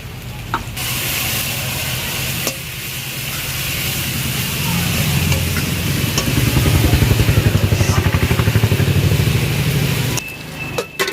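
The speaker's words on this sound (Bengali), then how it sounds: "এবার এটা দিয়ে আমি একটু কষে নেব কাঁচা গন্ধটা যাওয়া পর্যন্ত" Mutton fat and liver curry spices with ground cumin and pepper frying hard in a pan, a loud continuous sizzle and hiss that swells midway and cuts off near the end.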